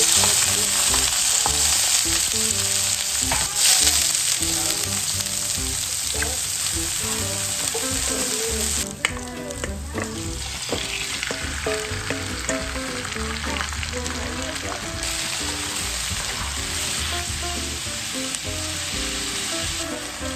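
Tomatoes fry in oil in a new cast iron pan, giving a steady, loud sizzle with crackle and occasional stirring scrapes that runs the whole time, with no voices.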